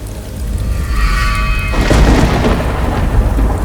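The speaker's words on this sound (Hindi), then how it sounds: "अरे बारिश हो रही है।" Heavy rain pours steadily while a loud roll of thunder breaks in partway through and rumbles on over the downpour, in a dark jungle on a stormy night.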